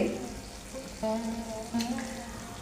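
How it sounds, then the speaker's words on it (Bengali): Potato and poppy seed curry fries in plenty of oil, a soft continuous sizzle with faint stirring. Some brief tonal clatter rises over it midway. "পোস্তটা কিন্তু একটু ভাজা ভাজা হবে আজকে এতটাই বেশি তেল দিয়ে রান্নাটা হয়েছে"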